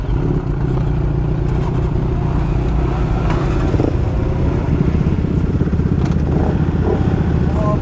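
A group of motorcycles at a meetup in Bielefeld rumble and idle close by in traffic, a dense, continuous engine drone with occasional clatter and light revving throughout.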